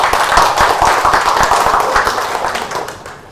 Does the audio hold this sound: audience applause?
yes